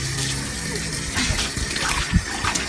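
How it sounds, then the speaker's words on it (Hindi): Water splashes and gushes loudly as it is poured out, with uneven bursts and a close, sloshing quality. "बड़ा बर्तन उठाया है फिर पानी डालने के लिए"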